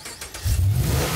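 A car's engine revs up as it passes on a street, a low mid-pitched roar that swells in and holds loud, heard alone with no talk.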